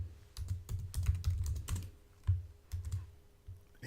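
A computer keyboard tapped to enter a title, with close, crisp keystrokes arriving in small uneven bursts separated by short pauses, and no voices.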